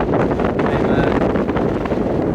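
Strong wind buffets the microphone on an open mountain ridge in Alaska's White Mountain National Recreation Area, a constant loud rumbling roar with gusty fluctuations and no pauses.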